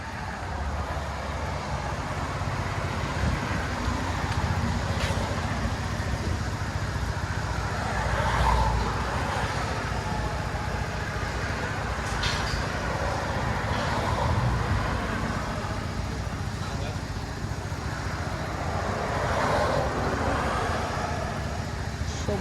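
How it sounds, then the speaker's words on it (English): Road traffic rumbles along a busy street, a continuous low roar of passing cars and engines with a few louder swells as vehicles go by, steady and fairly distant throughout. "So much traffic."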